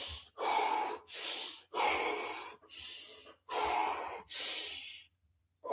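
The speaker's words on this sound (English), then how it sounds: "Bit of a Wim Hof breathing method in this house" A man does Wim Hof method breathing, a series of about six deep, forceful breaths in a steady rhythm, each a loud rushing inhale or exhale close to the microphone, separated by short pauses.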